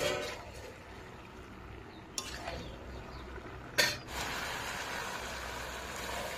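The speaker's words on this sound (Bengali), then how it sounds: "তো চিংড়ি মাছ দিয়ে তো ভালো করে নাড়াচাড়া করে নিয়েছি" Prawns are stirred in a cooking pan for a pointed gourd and prawn curry: a soft, steady scraping hiss with two sharp utensil clinks against the pan, close and quiet, with no talk.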